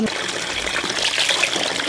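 Water trickles and splashes steadily in a budget-friendly DIY sensory garden, a close, continuous wash of dribbling water with faint voices underneath.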